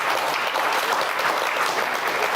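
An audience at a community talk on engineering in Leeds gives a round of applause: thick, continuous clapping from many hands, fairly close and even in loudness from start to finish.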